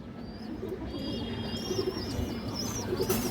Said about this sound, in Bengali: এই যে মাদিরা দেখেন দর্শক, অনেক সুন্দর একটা আর্মি মাদি কবুতর দর্শক।